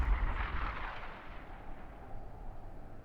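Main cannons of a UEF battleship in Supreme Commander 2 firing a heavy, booming artillery-like blast that rolls off into a long low rumble, distant and fairly faint, with no talking.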